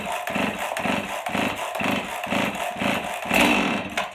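A Husqvarna chainsaw firing up after a pull on its newly fitted starter cord, sputtering into a rapid, pulsing engine chatter that turns loud and close and runs steadily.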